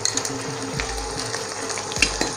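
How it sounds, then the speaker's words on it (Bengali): Ginger paste drops into onions frying to light brown in a pan, giving a steady close sizzle with brief stirring scrapes and no voices. "আমাদের পেঁয়াজটা হালকা করে ভাজা হয়ে গেছে লাইট ব্রাউন কালার চলে এসছে অ্যাড করছি ওয়ান টেবিল স্পুন"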